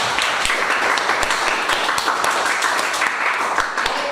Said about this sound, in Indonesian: kalau cukup kita kasih aplaus ke temenmu yang satu